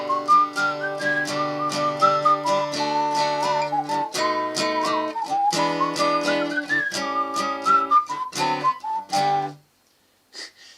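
Acoustic guitar strums an Irish chord progression with jazzy dominant seventh chords, bright, ringing strummed chords at a steady rhythm, close and clear, ending on a sustained chord and then fading into quiet.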